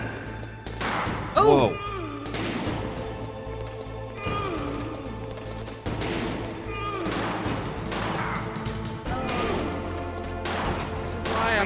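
Gunfire rings out while Ocelot is shot in Metal Gear Solid, a series of sharp cracks and clattering impacts over a humming game soundtrack, with a player exclaiming in between.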